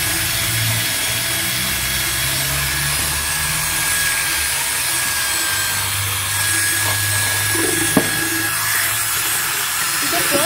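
A steel wire brush scrubbing glue off wood while building a motorhome interior, a loud, steady abrasive rasp with a low motor hum underneath and one sharp click near the end.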